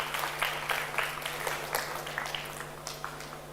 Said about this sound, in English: Round of applause for Soumya, everyone.